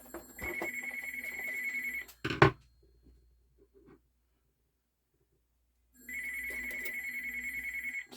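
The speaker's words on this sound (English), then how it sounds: "Sorry about the phone." A telephone rings loudly indoors in a workshop beside a Marantz 6025 turntable under repair, with two long electronic rings separated by a pause of near silence and a brief clatter in between.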